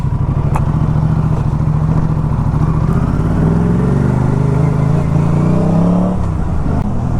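A motorcycle nicknamed the gorilla being ridden on a short road trip, with a steady loud engine drone throughout that swells and shifts pitch as it accelerates.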